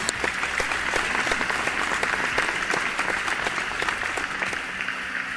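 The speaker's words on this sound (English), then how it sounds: "definitely a big round of applause for these little contestants" An audience applauds young contestants at a spelling bee, a steady, loud, even round of clapping from a sizable crowd that holds throughout without talk.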